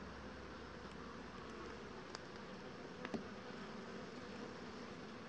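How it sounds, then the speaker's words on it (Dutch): Honey bees buzz steadily on a brood frame lifted from the hive during a winter feed check, with no smoke used. The hum is soft and continuous, with a few faint clicks and no talking. "je ziet hoe rustig dat de bijen zijn"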